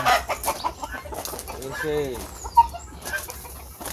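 Young roosters cluck and squawk in a short burst near a fighting-cock breeding yard, close by, with someone speaking briefly over other background voices and rustling.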